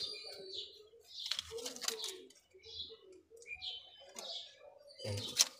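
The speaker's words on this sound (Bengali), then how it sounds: "এই পায়রাটা কি পায়রা তোমরা তো অবশ্যই বুঝতে পারছো দেখে" A pigeon bought at a market coos in soft, low bursts among thin chirps from other birds, faint and close, with a person talking over parts of it.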